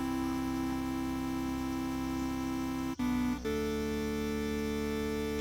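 Big stadium-style sustained chords as a music stem, thick and steady, holding one chord, cutting briefly, then switching to another held chord.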